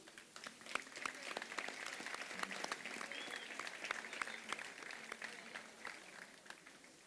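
Crowd applause at a festival queen and court proclamation ceremony in Sant Rafael del Riu, many hands clapping steadily but quietly, as if heard from some distance, with scattered sharper claps throughout.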